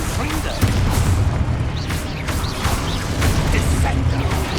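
Confringo explosion spell in a wizard video game, a loud booming blast with crackling debris and dense low rumble, set among continuous game combat noise and voices.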